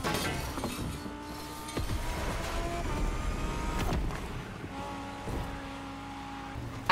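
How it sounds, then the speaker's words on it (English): Bugattis, Paganis and other cars racing closely in The Crew Motorfest video game, a continuous engine drone with shifting revs, plus scattered crash and scrape noises throughout. "this is going to be a very close race once again with multiple Bugattis, Paganis as well, along with a bunch of other cars"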